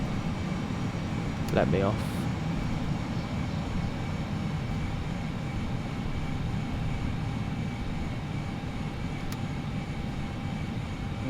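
An FSLabs Aer Lingus airliner taxiing in the Prepar3D v4 flight simulator gives a steady, low engine and cabin rumble throughout, with brief speech over it near the start.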